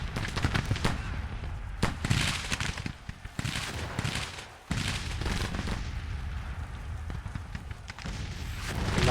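Dense, continuous battle noise from the Civil War strategy game Grand Tactician: a rolling mix of musket volleys and artillery bursts, steady and crowded throughout with frequent sharper cracks standing out from the din.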